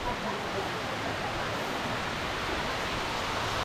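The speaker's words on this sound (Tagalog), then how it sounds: "Malakas pa rin ang patak oh" Heavy rain pouring at a seaside resort, a dense, even roar of drops that stays loud and unbroken until it cuts off abruptly at the end.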